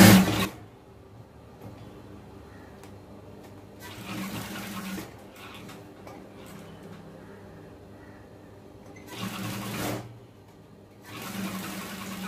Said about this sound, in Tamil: திருப்பி மேலே ஒரு தையல் போட்டுருங்க.